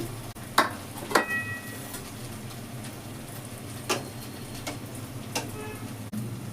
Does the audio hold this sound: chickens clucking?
no